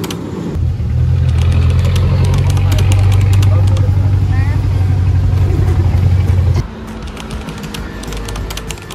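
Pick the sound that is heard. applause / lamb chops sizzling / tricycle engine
tricycle engine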